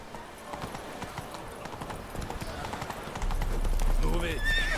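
A horse gallops with rhythmic hoof clops and then neighs loudly near the end, with people talking over it.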